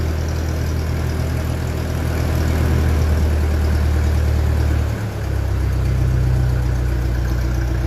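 A 1957 Ferguson 35 tractor with a TVO engine idles close by in a steady, low, chugging rumble that holds throughout, with one brief dip near the end and no voices.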